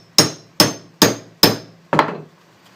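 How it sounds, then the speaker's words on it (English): Five sharp hammer blows drive a hole punch through layers of leather, evenly spaced and loud and close, the last strike a little softer, with no talk. "I'll punch another one for you, show you how I did it."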